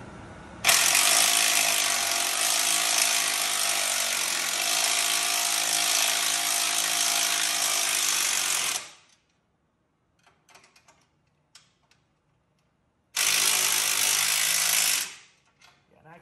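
A Harbor Freight impact universal joint on an impact tool hammers loudly and steadily for about eight seconds, stops, and after a short quiet gap with a few faint clicks gives one more brief burst.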